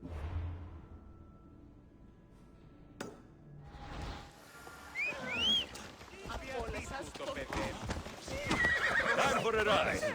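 A horse in Assassin's Creed Odyssey whinnies in a rising, wavering neigh, with hooves clopping and game sounds around it, after a quiet stretch; someone speaks briefly near the start.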